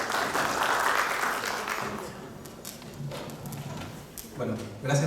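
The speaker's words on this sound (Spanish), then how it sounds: "le brindamos un fuerte aplauso" Audience applause at a Peruvian cardiorespiratory physiotherapy training event, a dense wash of clapping that fades over a few seconds while a voice begins speaking and a few scattered claps and taps trail on.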